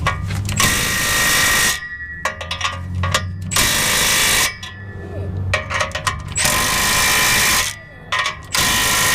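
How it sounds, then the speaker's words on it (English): A ratchet tightening exhaust clamps on a 1948 Dodge custom sedan, with several close, loud bursts of rapid clicking separated by short pauses. "we're gonna finish tightening these clamps"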